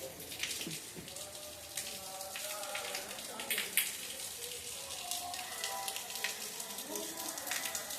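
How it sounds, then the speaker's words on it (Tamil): Heavy rain in Madurai hisses and patters steadily on nearby surfaces, with a voice talking faintly over the constant downpour. "வெளியிலலாம் நல்லா மழை பெஞ்சிக்கிட்டு இருக்குது"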